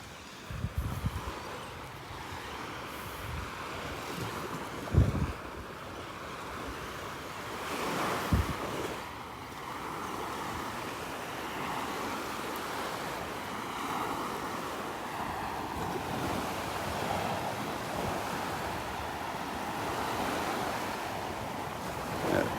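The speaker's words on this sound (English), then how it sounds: "It's a wake from a passing boat, stirring up the water." Boat wake waves breaking and washing onto a Gulf beach at Delnor-Wiggins on a rainy morning, a continuous surf wash with a few heavier crashes early on, heard under steady wind buffeting the microphone.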